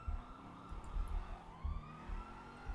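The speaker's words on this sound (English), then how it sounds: "There is another police car blocking me." Police car sirens in the video game GTA V wail in a rising and falling tone during a chase, fairly faint and a little distant, layered over low engine rumble with no one talking.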